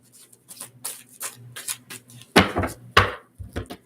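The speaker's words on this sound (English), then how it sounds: "I'll give it a good shuffle." Cards riffled and shuffled by hand, a run of soft crisp bursts building to two louder riffles near the end, close up with no talking.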